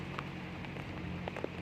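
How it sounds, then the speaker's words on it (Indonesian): Heavy rain falls on a plantation during an off-road outing in Lampung. A steady, dense patter fills the whole clip, with a few separate drop taps standing out, and no one speaks. "Ini hujannya deras banget ini."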